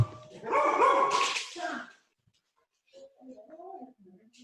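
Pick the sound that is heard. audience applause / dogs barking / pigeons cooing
dogs barking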